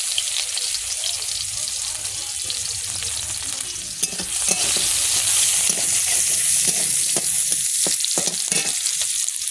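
Oil sizzles and crackles in a hot pan on a home kitchen stove, a constant bright hiss that swells louder midway with sharp spits and pops, no talking over it.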